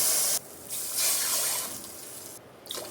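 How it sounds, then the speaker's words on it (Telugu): Three glasses of water pour in bursts into a pot for bagara rice, splashing and gurgling close by, with short pauses between pours. "3 గ్లాసెస్ వాటర్ పోసుకున్నాను."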